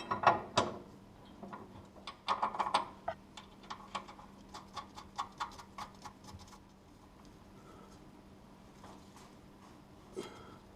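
Ratcheting clicks from a wrench tightening a bolt on a vehicle's rear suspension during a rebuild with new springs, shocks and track bar, in quick close bursts of ticks separated by pauses, with the clicking thinning out toward the end.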